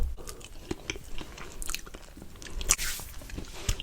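Someone bites into and chews a piece of trompe-l'œil flan close to the mic, with soft squishy mouth sounds and a few crisp crunchy bites spread across the moment, no talking.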